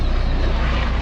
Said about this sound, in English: So you're gonna see a lot of helicopters. I think there's another one coming by.